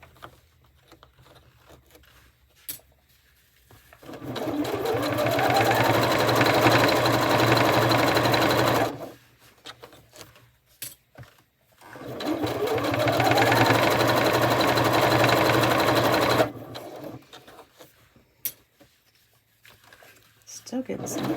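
A sewing machine stitches along the open edge of dog collar webbing in two steady runs of several seconds each, with quieter pauses between them, loud and close.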